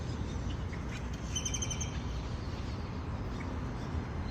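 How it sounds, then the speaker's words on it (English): Birds in the Martinez de la Torre town square at dawn, where many pigeons gather, give a brief burst of high chirps over a steady wash of ambient morning noise. "The most pigeons I've seen anywhere"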